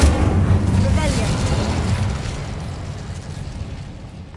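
Incendio fire spell explosions in the video game Hogwarts Legacy, a loud burst of whooshing, rumbling blasts at the start that fade into a lingering roar, with voices speaking over it.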